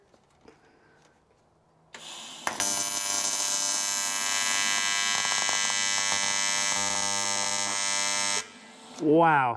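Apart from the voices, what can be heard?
welder humming at an odd frequency after reset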